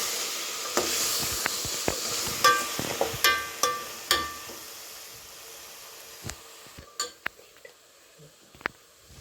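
Spices stirred into dal in a home kitchen pan, with a spoon scraping and clinking against the metal in a string of sharp taps over a soft background hiss, thinning out toward the end.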